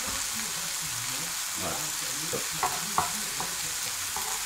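Chopped mushrooms and brushed, cleaned truffle cooking in a pan, giving a steady, soft sizzle with a few light clinks of stirring, and a brief spoken word over it.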